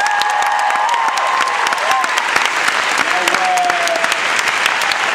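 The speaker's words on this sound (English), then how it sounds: "So can we have a round of applause?" A large audience at a live HitRecord stage show breaks into loud, close applause with scattered whoops and cheers throughout, sustained for the whole five seconds.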